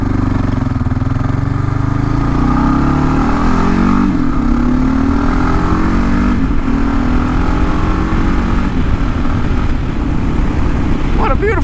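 A Kawasaki KLR motorcycle engine drones steadily while riding on a sunny day, a loud continuous low rumble with shifting pitch and wind buffeting, no clear speech.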